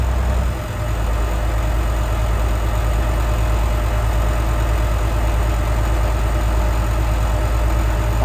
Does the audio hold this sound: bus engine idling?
yes